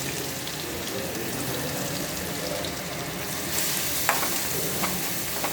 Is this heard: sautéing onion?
yes